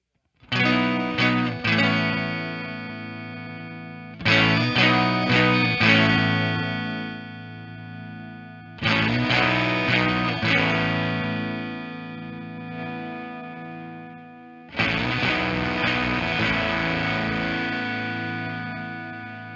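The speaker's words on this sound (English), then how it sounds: "The input volume, about here is where it starts to really get distorted." Heavily distorted electric guitar chords through a BES preamp strike and ring out, four separate bursts each fading slowly, with a thick, saturated buzzing tone.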